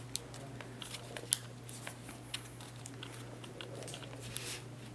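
Close, quiet creasing and crinkling of a Google Cardboard VR viewer's lens piece being folded, with a few sharp little clicks and rustles scattered through a low steady hum.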